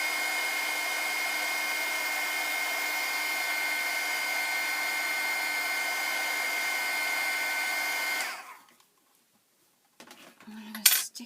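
A heat tool blows steadily for about eight seconds while warming a painted canvas, a constant whirring hiss, then it cuts off, leaving brief faint handling clatter at the end.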